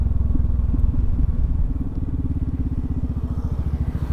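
A Yamaha Xmax 250 scooter from 2018 makes a U-turn on a wide road, its engine close and loud with a throbbing rumble that settles into a faster, steady pulsing beat toward the end.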